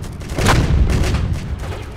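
A toy tank fires in the real-time strategy game Home Wars, set inside a house, giving loud booming game gunfire in quick bursts over a rumbling battle background.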